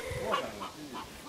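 Chickens clucking inside a farm chicken coop where the hens are housed on an upper floor, several short, close clucks in a quick irregular series with faint background noise.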